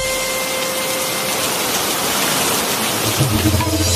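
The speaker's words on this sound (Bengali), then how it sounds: "এ বৃষ্টি থামার মতন বৃষ্টি নয়।" Heavy, steady rain pours in a dense, continuous hiss for a downpour scene in a Bengali comedy sketch, loud and close throughout, with faint low rumbles creeping in toward the end and no speech.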